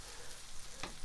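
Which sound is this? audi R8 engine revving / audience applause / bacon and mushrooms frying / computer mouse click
bacon and mushrooms frying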